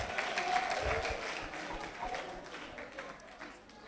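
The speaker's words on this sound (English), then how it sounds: "A big round of applause for her." An audience at an award presentation applauds, a moderate wash of clapping that tapers off over a few seconds, with some voices mixed in.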